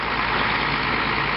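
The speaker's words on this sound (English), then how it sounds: "he's pulling the stone boat with the tractor with the bale on it" A tractor engine runs steadily as it pulls a stone boat carrying a round bale out to cattle on a farm, a continuous rough, broadband rumble with no breaks or voices.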